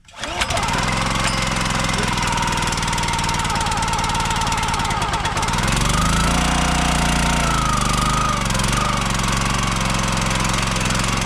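A small gasoline engine fed non-ethanol fuel with stabilizer, used for firewood cutting after sitting for months, fires up and runs loud and close, holding a steady rumble that shifts pitch about midway.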